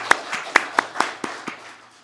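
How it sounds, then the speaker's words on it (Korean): A few members of a church congregation clap at a Sunday worship service, sparse and distinct hand claps, about seven in just over a second that fade out, thin and close rather than full applause. "박수 소리가 너무 작았습니다"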